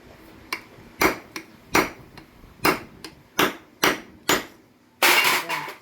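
A flat screwdriver is hammered into an old motorcycle front fork oil seal: about eight sharp, close metallic blows at an uneven pace, then a longer rattling burst of quick hits.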